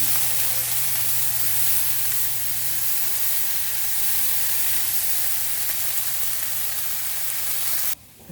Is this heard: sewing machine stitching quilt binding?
no